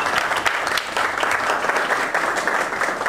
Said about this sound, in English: So let's give Paul a big round of applause.